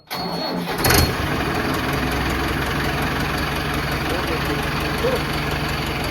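A vehicle carrying a load of paddy to the grain market in Patiala starts with a brief cranking burst, then settles into a loud, steady engine idle that runs on evenly close by.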